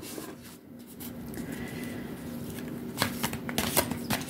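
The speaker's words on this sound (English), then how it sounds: "shuffle again on these archetype cards" Archetype oracle cards are shuffled close by, a soft papery riffling and flicking that builds into sharper snaps toward the end.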